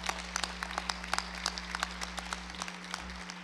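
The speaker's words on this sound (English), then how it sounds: "Please give them a round of applause" A ceremony audience applauds young scholars, quiet distant clapping with individual claps standing out over a steady electrical hum.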